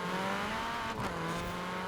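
A sleeper drag car in Forza Horizon 4 launches down a runway, its engine sounding as a loud, sustained, rising roar with a brief dip partway through.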